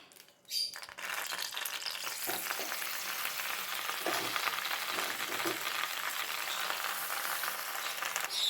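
Green chillies and gongura leaves fry in hot oil in a pan, giving a steady, close sizzle that starts with a sharp burst and keeps up a constant crackle.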